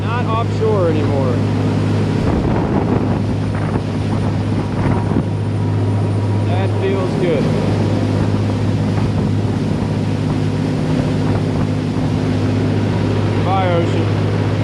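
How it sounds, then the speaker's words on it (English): Twin turbocharged Volvo diesel engines on a 2000 Pursuit 3400 boat drone loud and steady in an inlet, a deep constant roar with wind buffeting, while people talk briefly over it. "Yeah, turbos are loud."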